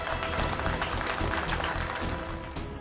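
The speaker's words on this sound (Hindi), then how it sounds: "एक बार तालियां हो जाए भाई" Guests at a family gathering applaud to welcome a son-in-law, a dense, continuous round of clapping that fades slightly toward the end.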